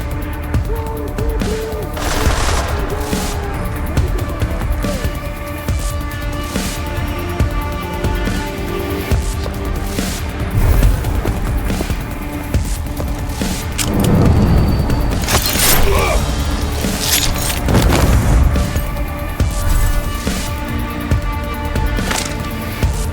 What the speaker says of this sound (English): Getting reports of gunfire in Apex Center.